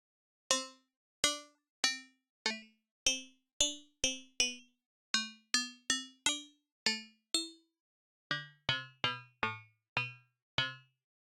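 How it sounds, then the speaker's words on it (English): A series of bright FM-synthesized bell-like tones from Ableton Live, each struck sharply and quickly fading, played one after another in an irregular melodic sequence against silence. "So we can make all sorts of bell tones and plucked string sounds"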